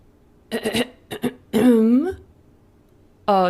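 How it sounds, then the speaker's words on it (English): A man clears his throat with a few short, gruff rasps, then speaks briefly. "clearing his throat, he said"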